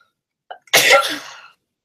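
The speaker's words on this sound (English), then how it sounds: "I will sneeze." A single person's sneeze: a short sharp intake of breath, then one loud explosive burst that trails off over about a second, close to the microphone in an otherwise quiet room.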